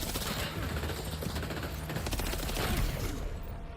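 AK rifle fire in a video game rattles in dense rapid bursts, a loud continuous stream of shots filling the whole short stretch.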